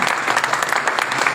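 Loud, dense audience applause at a stage event, steady clapping filling the whole moment without a break, no voices rising above it.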